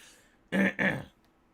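Someone clears their throat in two quick, harsh bursts close up, with near silence before and after.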